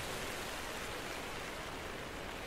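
Steady, even rain hisses continuously with no pauses and no talking, in the video game Minecraft: Story Mode.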